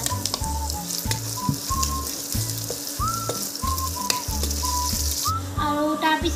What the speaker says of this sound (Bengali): এয়া চাওক পিঁয়াজ আৰু নহৰুখিনি ধুনীয়াকৈ ভজা হৈ গ'ল